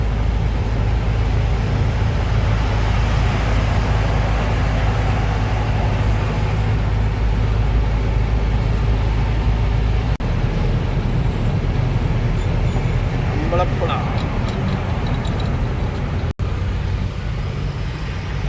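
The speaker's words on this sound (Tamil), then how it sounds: "ஃபுல்லாக டிராஃபிக்கு" Dense, steady road traffic backed up near a bridge construction site, with a continuous loud rumble of car, bus and truck engines and a brief air-brake hiss, no voices.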